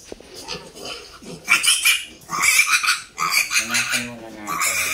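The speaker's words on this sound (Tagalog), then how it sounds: "So start na tayo mga kakoral sa pag-ear notch dito sa ating mga biik." Piglets on a hog farm squeal loudly during ear notching, high shrill cries in bursts, with someone speaking between and under them.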